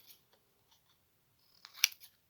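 Scissors snip through patterned Christmas craft paper, with a few faint light cuts leading up to a louder cluster of crisp close snips near the end.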